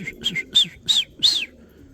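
A bird gives a short series of bright, chirping whistled calls, about five quick bursts in under two seconds, fairly close and clear over a low background rumble.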